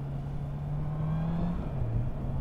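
Honda CB650R four-cylinder motorcycle engine pulling up from around 4000 rpm with a steady, rising drone, close and continuous, no talking.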